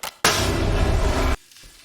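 A single loud explosion in the video game Ready or Not erupts and holds as a dense, roaring wash of noise for about a second before cutting off abruptly.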